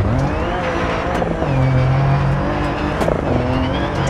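A rally car in DiRT 4 roars at high revs throughout from the cockpit, the engine pitch shifting with gear changes while tires scrabble faintly underneath, loud and continuous.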